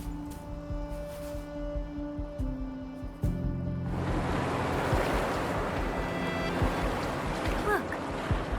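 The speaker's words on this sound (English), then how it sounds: "Look, the water is going down." Rushing water draining away in the video game Wuthering Waves, a steady broadband wash that swells in and stays loud after a quiet stretch of tonal game music.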